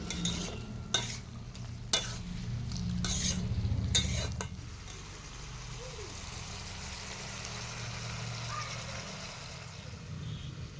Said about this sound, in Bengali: খুন্তির সাহায্যে আমি একটু ম্যাশ করে নিব।